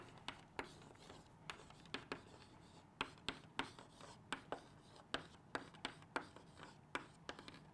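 Chalk or marker strokes on a board while an equation is written for a thermodynamics physics lesson, a series of short, sharp taps and scrapes in an irregular rhythm, fairly quiet and close, with no talk over them.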